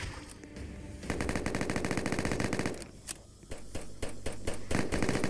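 Rapid automatic gunfire from the Roblox zombie survival game All of Us Are Dead, dense bursts of shots rattling almost continuously, loud and close, with a short lull midway before the firing resumes.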